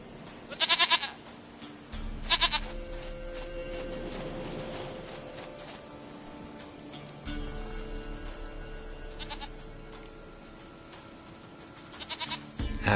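A video game goat bleats several times in short, wavering bursts, loud and near, spread over a low humming musical drone.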